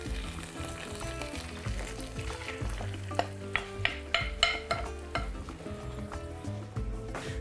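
Marinade hits a hot frying pan just emptied of fried chicken drumsticks and sizzles steadily, with clinks and scrapes of stirring tapping through the continuous crackle, no voices.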